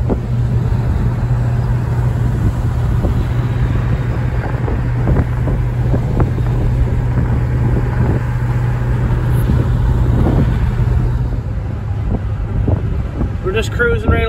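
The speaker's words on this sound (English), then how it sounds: "Just cruising right along here at like 40 miles an hour" A 1967 Ford Fairlane convertible cruising at about 40 mph, its steady engine drone and road rumble mixed with heavy wind buffeting, continuous and loud from start to finish.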